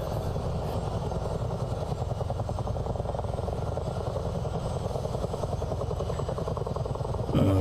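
A Chinook CH-47 twin-rotor helicopter in a flight simulator game, a steady loud rotor chop pulsing rapidly over a constant engine whine, unchanging throughout.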